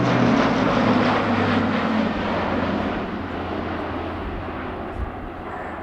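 An Airbus A400M Atlas military transport at a flying display pours out a loud, sustained turboprop roar that slowly fades as it passes, with no voices.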